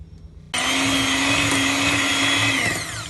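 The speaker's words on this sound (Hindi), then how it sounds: "सबसे पहले बटर को हम इतना बीट करेंगे कि ये क्रीमी से टेक्सचर में आ जाए" An electric mixer whirs into a loud, steady high-pitched drone as it beats butter until creamy. It starts abruptly after a brief quiet moment and holds close and constant before easing slightly.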